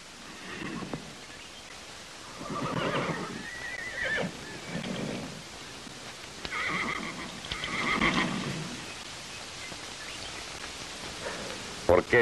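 A horse whinnies and neighs several times in bursts, fairly close, with a rustling background and faint movement between calls.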